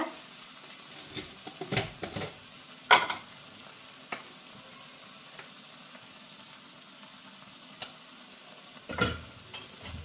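A spoon stirs pizza dough ingredients with salt and sugar in a bowl, giving sparse scraping strokes and clinks at uneven intervals, close and fairly quiet with no talking.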